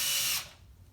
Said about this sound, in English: So when I install stuff, I do like to use drill motor a lot.